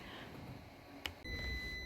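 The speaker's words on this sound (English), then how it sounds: "that the dryer beeped at the exact time" A clothes dryer's end-of-cycle beep sounds indoors: a short bleep, then a longer steady electronic tone that carries on to the end over a quiet room.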